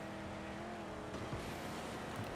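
Car engine with an upgraded exhaust in the Mad Max video game, a steady loud droning rumble held throughout with a slight shift in tone midway, no voices over it.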